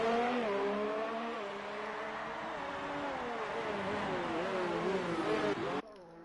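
F1 race car engine in a racing video game whines steadily with rising and falling pitch shifts through gear changes, loud and continuous, cutting off abruptly near the end.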